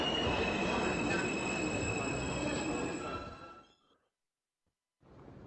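A train passes in the video game The Exit 8, a loud rolling rumble with squealing wheels and metallic whine that cuts off abruptly to silence before ambient noise resumes.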